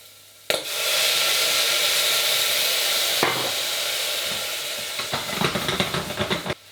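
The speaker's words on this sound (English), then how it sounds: "now after about 2 minutes, more or less, we're going to add the white wine" White wine poured into a hot pan of squid ink seafood risotto sets off a loud, sudden hiss that holds steady as a dense sizzle, then breaks into sputtering crackles toward the end.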